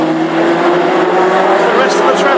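Classic hot rod race cars thunder down the back straight at Hednesford, their engines a loud, sustained droning roar that holds steady for the whole stretch.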